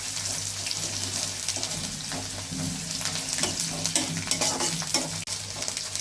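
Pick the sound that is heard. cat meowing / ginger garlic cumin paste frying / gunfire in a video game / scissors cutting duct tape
ginger garlic cumin paste frying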